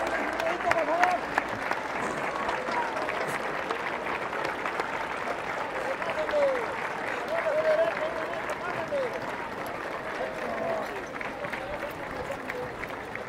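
An outdoor crowd claps steadily for horse riders arriving at a commemorative gathering in Chalchihuites. The applause holds as a sustained, moderately loud patter with a brief swell midway, while a voice speaks over it.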